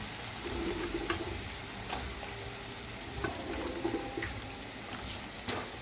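Okra sizzles in hot oil in a pan with fenugreek, cumin and green garlic, a steady close frying hiss with a few brief crackles and stirring clinks, no speech.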